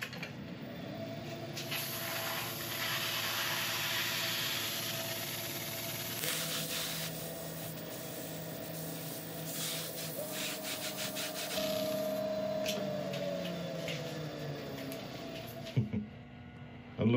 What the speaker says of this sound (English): I'm going to rub this in with it spinning, holding the cloth against it.